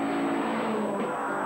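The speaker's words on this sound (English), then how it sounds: "Vatanen's car sounds like a Taranaki tractor." Rally car engine from a 1970s British rally championship stage, a brief loud sustained revving drone with a steady pitch.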